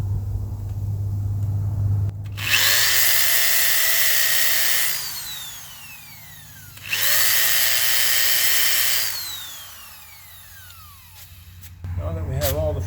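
Two long bursts of a power drill boring holes to fit a post latch eMullion, each whining loudly at steady speed for a few seconds, then spinning down, over a low background hum.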